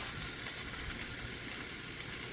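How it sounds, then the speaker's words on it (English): Sausage patties laid into hot grease in a frying pan give off a steady, close, even sizzle that holds for the whole stretch, with no voices over it. "now your grease is warmed up, so now you can go ahead and start putting your patties in there"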